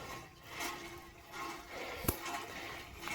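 Cold water from a borewell rushing out in a steady, moderate gush, with faint background noise and one brief knock partway through.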